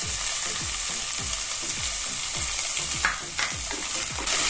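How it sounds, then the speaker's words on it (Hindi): Onions frying in a pan after red chilli went in, a loud continuous sizzle with rhythmic scraping stir strokes close by and no talk. "इस तरह से प्याज को अच्छे से फ्राई करेंगे।"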